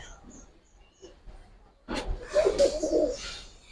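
A Giribaz pigeon coos close by in a home loft, a soft rolling call rising after a near-silent start, with faint background noise and a brief thump before it.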